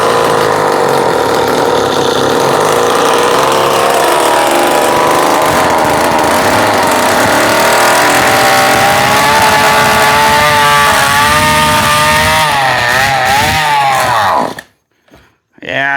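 A rare gas-powered cordless drill's small two-stroke engine runs loudly and steadily near the mic, its buzzing pitch rising as throttle is applied, then cutting out abruptly near the end.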